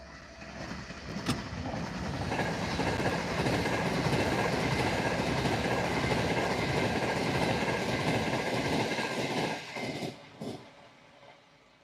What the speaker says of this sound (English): And there goes an Avanti Pendolino going to London Euston.